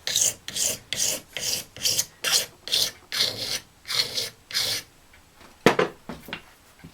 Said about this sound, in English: Filing down to the line, which I think is there somewhere.